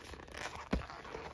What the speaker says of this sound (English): And then it zips closed.